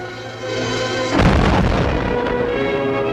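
Naval guns open fire in a WWII war film: a heavy boom breaks in about a second in and rolls out into a loud, sustained rumble over a steady background.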